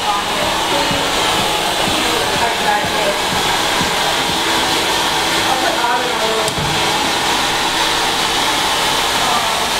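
Loud, steady hair dryer blowing continuously on freshly cut wet hair during a bob haircut, a constant close airy roar with no letup.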